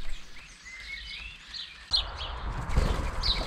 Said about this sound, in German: Ein großer schwarz-weißer Vogel am Futterhaus, das kann nur eine Elster sein. Ihr Scheckern kann man deutlich hören.